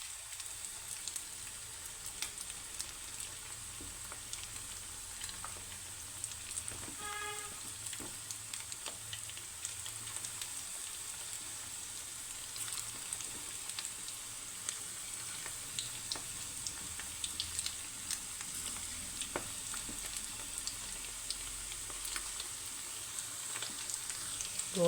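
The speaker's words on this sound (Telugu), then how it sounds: "చక్కగా వేగుతున్నాయండి." Small chicken pakoda pieces deep-frying in hot oil, a continuous close crackling sizzle with fine pops that holds steady and unbroken for a long stretch, no talking.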